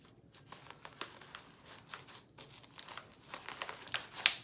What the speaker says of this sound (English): I'm just gonna poke a hole down in this styrofoam ball.